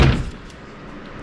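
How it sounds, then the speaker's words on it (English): A single loud, close thud of a car door shutting on a Dodge Viper fitted with a roll cage and a twin turbo LS engine, followed by a short quiet decay. "Let me shut the door, get a good angle here."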